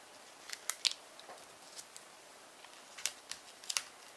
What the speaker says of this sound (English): You know me, I always cut out the middle.